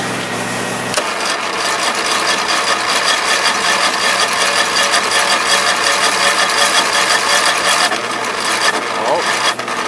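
An old car engine cranking on a cold start with full choke, a loud continuous rasping, ratcheting churn of the starter that runs on for several seconds without catching.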